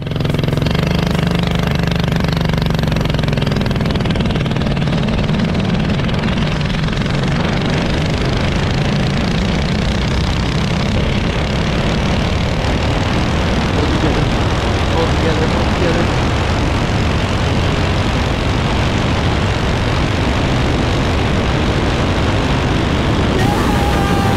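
A homemade motorized high-speed stroller engine roars loud and steady at close range while running at over 50 miles per hour, a dense continuous drone with rattling and rushing wind noise throughout.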